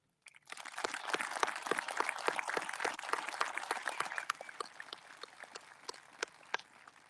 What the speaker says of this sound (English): Please join me in a round of applause for our gratitude to them and their service to our school, our students, and our community.